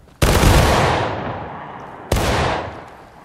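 Two booming musket volleys in the video game War of Rights, the first a loud ragged crash with a long rolling tail, the second a sharper blast about two seconds later, both echoing away.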